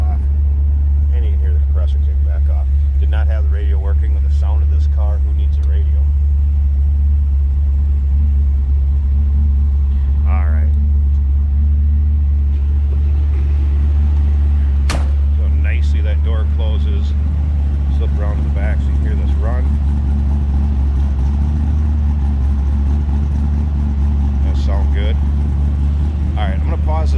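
A 1955 Chevrolet 210 engine idles and rumbles steadily throughout, a deep continuous drone with occasional voices talking over it.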